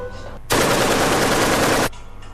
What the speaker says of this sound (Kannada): ಸ್ವಲ್ಪ ದೂರದಲ್ಲೇ ಗುಂಡಿನ ಶಬ್ದವೊಂದು ಕೇಳಿತ್ತು